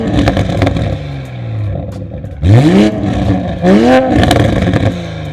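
Car fitted with an aftermarket exhaust, an 80mm pipe split into twin 70mm pipes through two mufflers and out of 120mm blue burnt tips, gives two loud, sharp revs that rise and fall, followed by crackles and a burbling idle.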